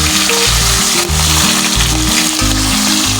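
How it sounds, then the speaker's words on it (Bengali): Fish head and tail frying in hot oil in a kadai, a loud, steady sizzle and crackle running throughout with no talk. "আগে মাছের মাথাটা আর লেজাটা ভেজে নিচ্ছি।"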